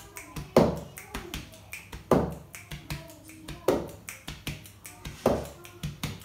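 Body percussion in a kitchen music lesson: a steady pattern of finger clicks and sharp hand taps on a table, with deeper thuds on the strong beats, close and clear with no talking.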